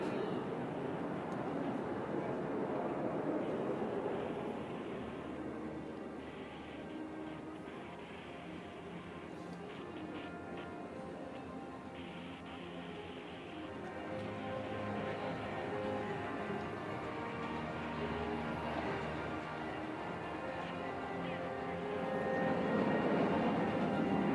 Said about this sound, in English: There goes Wing Commander Arjun Patel, pulling up for a loop.